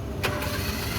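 A Suzuki F6A engine in a Multicab with a broken timing belt cranks in a steady, close, low-pitched churn that lacks compression, with a brief sharp burst near the start and no catch or firing.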